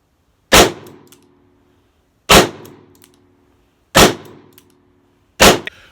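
A 2020 Colt Python .357 Magnum revolver fires four loud, sharp shots at even intervals of roughly one and a half seconds, each a hard crack with a brief ringing decay and no talk between them.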